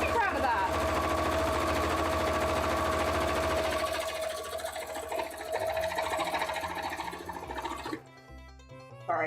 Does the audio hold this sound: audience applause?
no